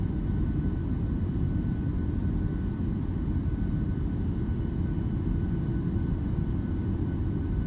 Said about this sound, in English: let's go ahead and get ourselves taxied in here